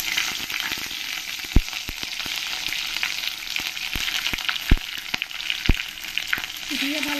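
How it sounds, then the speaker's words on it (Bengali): Whole spices, bay leaf, cumin and dried chili frying in hot oil for a fish curry, giving a steady loud sizzle with sharp crackles and pops scattered throughout and a faint stirring scrape near the end. "দিয়ে ভালো করে একটু ভেজে নেব আমি"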